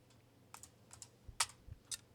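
Several separate keystrokes tap on a computer keyboard, quiet and close, irregularly spaced with short pauses between clicks.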